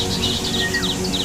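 Several birds chirp and tweet in quick bursts over a soft steady background, outdoors in warm sunshine near water in Buleleng, Bali. The calls repeat in short phrases at moderate distance.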